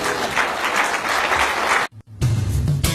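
A church congregation applauds during an evangelistic sermon with loud, sustained clapping from a crowd. The sound cuts out briefly, then resumes as a fuller, lower-pitched crowd noise.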